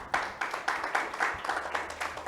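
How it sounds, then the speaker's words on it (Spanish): Church congregation clapping in a quick, regular rhythm during a sermon, moderately distant and fairly faint, rising together in steady beats. "Dele un fuerte aplauso al Señor si usted quiere."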